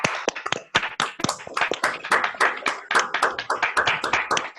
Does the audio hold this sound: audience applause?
yes